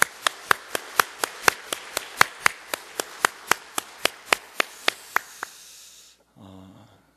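A church congregation claps for the choir in steady, even unison, about seventeen sharp claps in a row that stop abruptly, leaving a faint low hum.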